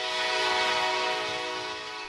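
A train on the Iron Silk Road railway sounds a long, steady horn blast while departing, loud and continuous over a low rumble, with no voices.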